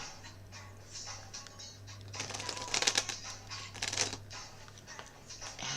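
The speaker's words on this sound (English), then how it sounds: "I don't know if you always hear my shuffling, but I do shuffle." A deck of cards shuffled during a love card reading, soft papery riffles and flutters swelling into louder bursts midway, over a steady low hum with no talking.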